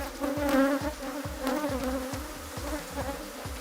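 Honey bees hum steadily and close at a beehive, a dense, continuous drone with overlapping wingbeats and no voices.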